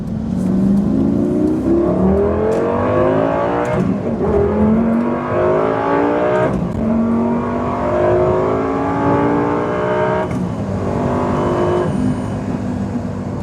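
A Lamborghini Gallardo engine revs hard through rising gears, loud and close, with the pitch climbing again and again between brief shift dips and no talk over it.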